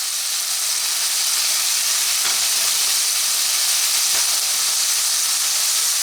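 Garlic cooking gently in a pan over low heat gives a steady, even hiss and soft sizzle throughout, broken by a couple of faint ticks, with no talking.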